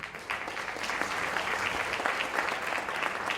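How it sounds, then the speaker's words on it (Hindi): An audience in an auditorium at a yoga centre's annual programme breaks into steady, energetic clapping. The applause is fairly close and continues evenly for a few seconds without talk. "जोरदार तालियां हो जाए."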